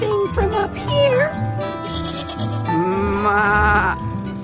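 A goat's bleat for a farm storybook, a wavering nasal 'maa' voiced by a person imitating the animal, loud and close, amid other bleat-like vocal sounds.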